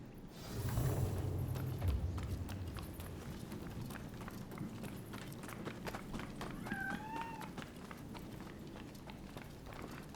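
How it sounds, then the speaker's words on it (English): In the samurai action game Rise of the Ronin, a cat gives a short rising-and-falling meow partway through, set against ambient game background and clicking, creaking mechanical sounds. "Is there a cat on here?"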